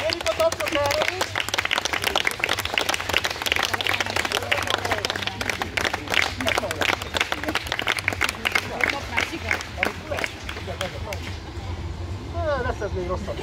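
Audience applause at a live comedy show in Mosonmagyaróvár, Hungary, a dense, loud wash of clapping mixed with crowd noise and voices that runs the whole stretch before thinning near the end.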